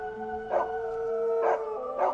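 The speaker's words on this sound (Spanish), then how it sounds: "escucharon cómo los dos perros que tenían sus vecinos comenzaban a aullar" Two neighbourhood dogs howling, three rising drawn-out howls over a steady tonal background.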